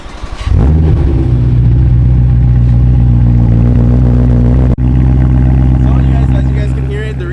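A BMW E92 M3 engine fitted with an aftermarket exhaust cranks and fires up, settling into a loud, deep, steady idle with a momentary dip partway through; no talking.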